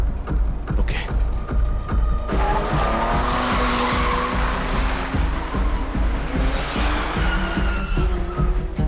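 A car skids away toward a clinic: tires squeal loudly and continuously over a roaring engine, close and sustained for several seconds with no talking.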